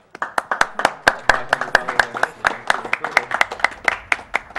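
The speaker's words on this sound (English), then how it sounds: "Hope you guys are clapping for the donation" Rhythmic clapping from an audience at a live Portal 2 speedrun event, a fairly steady run of sharp hand claps close by, with a voice faintly present behind them.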